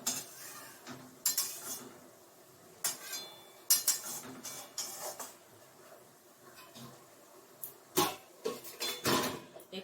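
Metal pots, pans and utensils clink and clatter in a kitchen while greens cook, with scattered sharp knocks and scrapes and one lid-like clank near the end, no talking.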